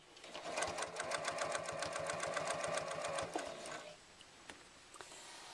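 A sewing machine back-stitches the side of a wallet, a fast, even run of close mechanical stitch clicks for about four seconds, then stopping with a few faint handling taps afterward.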